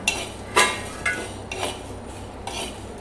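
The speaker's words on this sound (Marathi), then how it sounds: "तवा गरम करायला ठेवलेला आहे तर त्याचे घेतलेले सर्व जे मसाले आहेत हे खडे मसाले छान असं भाजून घेणार आहे" Whole spices and a bay leaf dry roasting on a hot griddle, stirred with a utensil that scrapes and taps the surface in several short strokes over a soft steady background, close and moderately loud.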